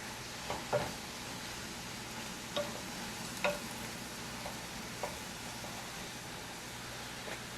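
Spinach and garlic sizzle quietly in a pan under a faint continuous hiss, with a few soft utensil clicks and scrapes from stirring scattered irregularly.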